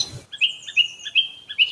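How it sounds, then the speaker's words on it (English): Birds chirp in a sound-effect layer: a short burst of noise, then a series of about five bright, high repeated tweets at an even rhythm, clear and close. "increase the sound of the birds"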